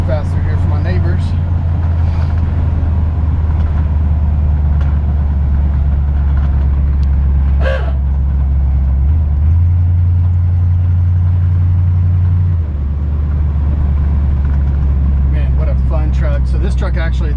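A 1954 Chevy 3100 pickup with a 350 V8 and power steering and disc brakes rumbles steadily as it drives, a loud continuous low engine drone with a brief shift in tone midway, while someone talks over it.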